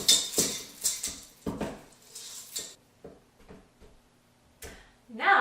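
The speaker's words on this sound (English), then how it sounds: "we'll go ahead and add our M&Ms. And then just mix these up." Oatmeal cookie dough with M&Ms being stirred in a bowl, a series of soft scraping, clattering utensil-against-bowl strokes in uneven bursts, close and moderately loud, pausing briefly between stirs.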